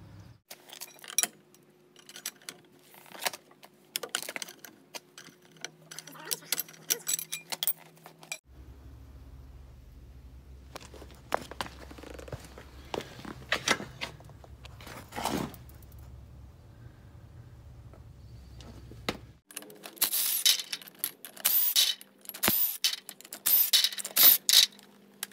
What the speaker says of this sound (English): break this nut loose